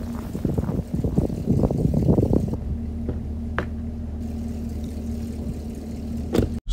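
A car on bald snow tires in snow mode with traction control labors up a snowy driveway, its engine rumbling steadily at close range with a brief rise early on and a few faint knocks.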